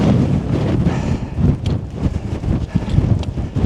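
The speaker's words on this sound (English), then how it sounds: "And the wind up here as well." Strong wind buffets the microphone on the summit of Carneddau, a steady rushing roar with gusty surges throughout, loud and close, with no talking.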